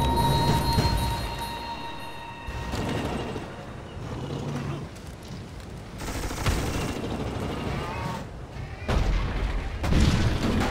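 A land ship in the Civilization V video game being blown apart by artillery fire, with a run of heavy booms and rattling volleys in clustered bursts, loud and close.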